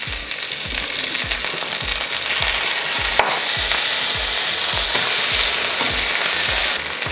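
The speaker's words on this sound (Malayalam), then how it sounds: "ഏകദേശം 8 മിനിറ്റോളം നമ്മുടെ ഇലയിലിരുന്ന് നമ്മുടെ മത്തി നന്നായി പൊള്ളി വന്നിട്ടുണ്ട്." Sardines roast on a banana leaf in a hot pan, giving a loud, continuous sizzle and crackle with a steady low rhythmic thumping beneath, no voices present.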